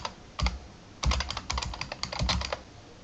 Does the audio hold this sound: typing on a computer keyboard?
yes